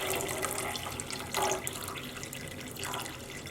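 Steady running water draining from a pot of wool yarn dyed with Jell-O, splashing into a sink, with a couple of brief louder gushes as the flow shifts.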